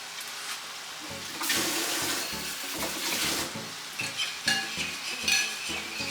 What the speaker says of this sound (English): So now I'll add some more cornstarch, mix it in some water.